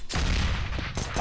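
A grenade blast in a professional CS:GO match on the Train map, a short loud burst of heavy explosive noise that rumbles briefly before a quieter tail.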